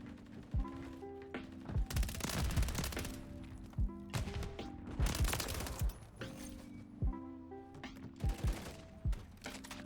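Rapid gunfire from the WSP Stinger auto pistol in the video game Modern Warfare 3, during a search-and-destroy match: repeated quick bursts of sharp, crackling shots with short pauses between them, moderately loud, with no talking.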